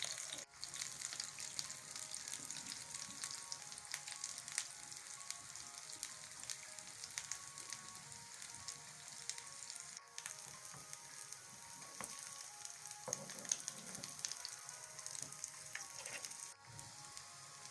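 Chicken and potato kebabs fry in oil with a soft, even sizzle, faint and steady, broken by a couple of brief clicks and shifts as pieces are moved.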